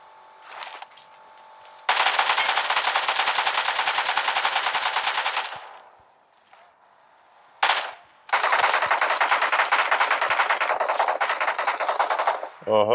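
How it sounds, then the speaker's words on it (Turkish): Automatic gunfire in the mobile battle royale game PUBG Mobile on the Erangel map, two long sustained bursts of rapid loud shots separated by a short gap and a brief burst. "Başka yerden sıkan var."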